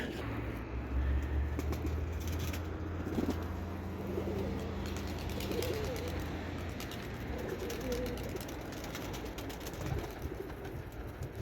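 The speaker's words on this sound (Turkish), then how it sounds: "Ben de şimdi yere bir kuş açayım." Soft cooing of tumbler pigeons comes through a constant outdoor rumble and wind-like hiss, the low murmuring coos repeating faintly in the background.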